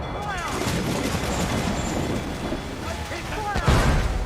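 Ship cannon fire during a naval battle in Assassin's Creed Black Flag: dense, rumbling booms blend into continuous game noise, with a heavier blast near the end, under shouting voices.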